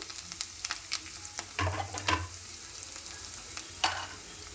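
Garlic and curry leaves frying in hot oil for a tempering, a close steady sizzle with a few louder bursts of crackling and stirring scrapes.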